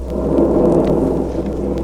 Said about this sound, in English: Listen, the storm. The rain is coming.